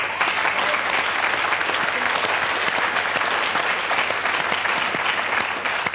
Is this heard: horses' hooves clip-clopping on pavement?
no